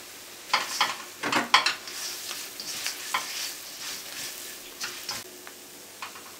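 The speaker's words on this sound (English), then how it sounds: "again mix them well with the onions" Onions and chili and coriander powders are stirred in a frying pan, with a soft sizzle beneath irregular spoon scrapes and clicks that come in a few close bursts, then thin out to lighter taps.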